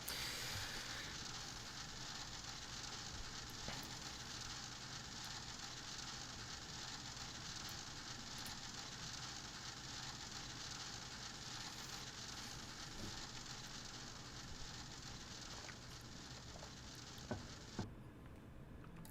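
Rain falls in a flight simulator game as a soft, steady hiss and patter, faint and constant, with a few small clicks near the end as it cuts off.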